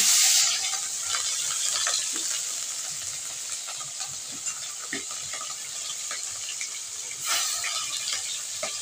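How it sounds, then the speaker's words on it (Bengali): Fish frying in very hot oil in a home kitchen, a steady bright sizzle with a loud burst at the start as the fish goes in and another surge near the end, dotted with small crackles and pops. "এবার মাছটা ফেলে দিচ্ছি।"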